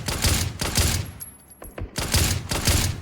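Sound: gunfire in the video game PUBG

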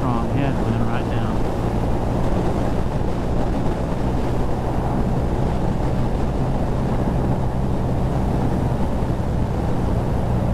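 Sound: strong headwind while riding BMW R nineT motorcycle

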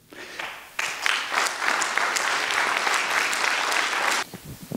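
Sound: audience applause

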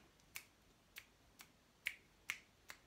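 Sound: finger snapping imitating rain

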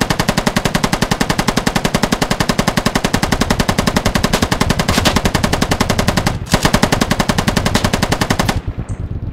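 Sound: helicopter door gunner machine gun firing in the video game Squad

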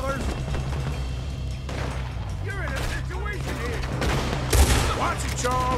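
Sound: gunfire shootout in video game Red Dead Redemption 2

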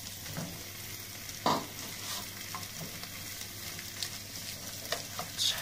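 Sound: minced meat (kefta) added to cooking vegetables in the pan

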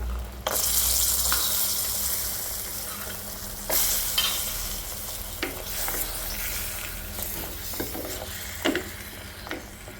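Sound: fried lentil dumplings (bori) added to pan, stirred and sizzling

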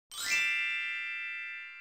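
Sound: notification bell ding sound effect

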